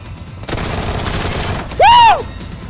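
A rapid burst of automatic gunfire in the shooter game PUBG Lite, dense and loud for about a second, followed by a brief rising and falling electronic whistle tone.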